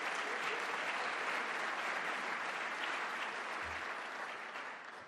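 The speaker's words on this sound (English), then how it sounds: "Let's give a big round of applause for all the trustees of this pension system." Dense, steady audience applause fills the whole stretch for pension system trustees at an investment manager conference in a hall at the New York Academy of Medicine, easing off slightly at the end.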